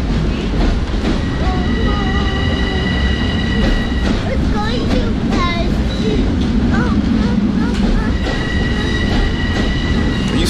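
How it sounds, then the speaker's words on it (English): A Long Island Rail Road train pulls into a station platform, its heavy rumble filling the scene as high-pitched wheel squeals and brake tones rise and fall, with people talking nearby over the arriving cars. "My daughter is standing on the platform with me, and the train starts coming in"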